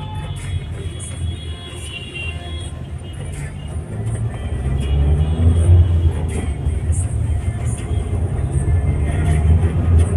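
A 2021 Mahindra XUV700 on a test drive, heard from inside: a low, steady engine and road rumble that swells midway and stays loud, with a faint rhythmic ticking on top.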